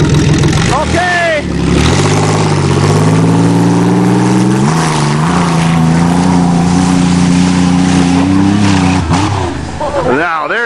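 A Chevrolet Lumina car engine roars at full throttle on dirt, a loud sustained revving drone with rising and falling pitch through several gear changes, ending in sharp bursts as it lands from jumps; a voice briefly speaks.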